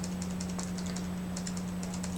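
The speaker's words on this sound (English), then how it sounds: "I have a new keyboard, which in positive news is a lot quieter, so when I type, hopefully you don't hear it as much" Typing on a new, quieter computer keyboard: soft, light key clicks in uneven bursts, fairly close but low in level, over a steady low electrical hum.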